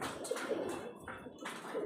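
Soft, low cooing of domestic pigeons repeats a few times nearby, muffled and rhythmic against a quiet outdoor background.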